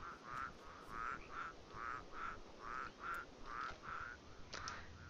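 Eerie frogs croak in The Secret World video game during the Samhain 2012 event, a steady run of about ten rhythmic, evenly spaced croaks over a faint, hissing ambient background.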